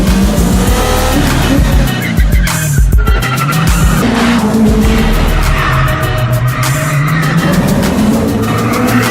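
A taxi racing through a film action scene from Taxi 4, with loud engine roar, sharp repeated tire squeals and skidding, all continuous and close.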